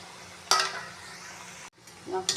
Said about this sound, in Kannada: ಈ ಥರ ಕರ್ಕೋಬೇಕು